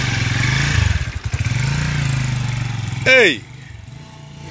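A motorcycle engine runs steadily nearby with a continuous low drone, briefly fluctuating, while a voice calls out over it and a short sharp sweeping tone cuts in near the end.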